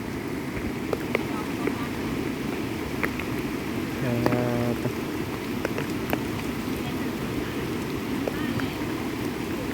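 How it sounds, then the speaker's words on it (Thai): Light rain falls steadily outdoors in a rural Thai setting near a swollen stream, a soft continuous patter throughout, with people talking over it. "ฝนก็ยังตกนิดๆนิดๆมาอยู่"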